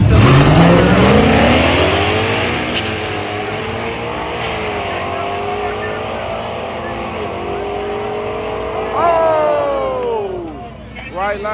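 Street cars drag racing down the lanes, engines screaming as they accelerate hard with rising revs and gear changes. The engines are loud and close, a crowd murmurs underneath, and a second engine winds up near the end.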